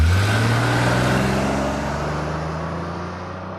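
A car engine drives steadily up close, its low rumble and droning harmonics easing slightly in pitch and fading a little over a few seconds, with no talk.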